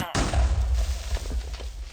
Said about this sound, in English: Does similar to a creeper explosion